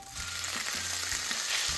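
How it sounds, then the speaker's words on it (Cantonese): Pork belly fries in its own fat with ginger slices in a wok over medium heat, a steady close sizzle with faint stirring knocks underneath. "用豬腩本身嘅油煎香薑片"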